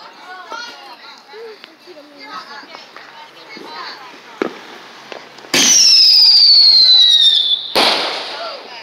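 Fireworks going off outdoors, a loud burst with a long crackling, whistling tail followed by another sharp blast, after a stretch of children's voices and shouting in the background.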